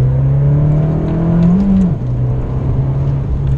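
An Abarth 595 Competizione with a 160 hp turbo engine pulls hard under acceleration, a loud, steady engine drone that rises briefly, dips, then holds on, heard close from inside the car.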